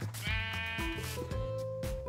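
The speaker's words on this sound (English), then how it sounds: "Stone sheep, come with me." Sheep in the video game Minecraft bleat repeatedly, a string of wavering, nasal calls close up and fairly loud, with no talk over them.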